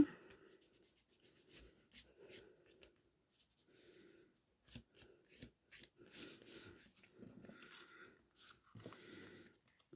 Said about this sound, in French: je vais gommer mes petits traits que j'ai fait tout à l'heure